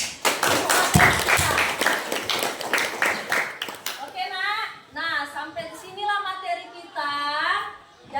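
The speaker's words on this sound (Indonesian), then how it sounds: "tepuk tangan dulu" A school class clapping hands together, a quick run of sharp, loud claps lasting about four seconds, followed by a voice speaking to the pupils.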